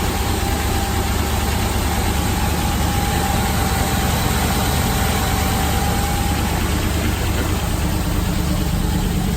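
A 1980s jeep engine idles steadily nearby, a continuous dense rumble with an even, unchanging texture and a faint thin whine running through the first part, with no voices over it.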